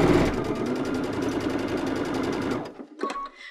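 A sewing machine with a double cording foot runs steadily and loudly for about two and a half seconds while stitching double welt cording, then stops, leaving a few faint clicks and handling noises.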